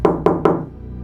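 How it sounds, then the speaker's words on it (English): Three sharp knocks on a front door in the middle of the night, evenly spaced and close, each ringing briefly before fading to quiet. "we heard knocking on our front door"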